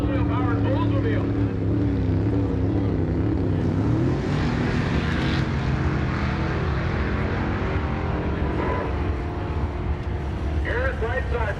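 An orange Camaro and a 1967 Oldsmobile-powered Oldsmobile drag race at Great Lakes Dragaway during Sick Summer 2023, their engines a loud, sustained roar with shifting pitch as an announcer talks over them.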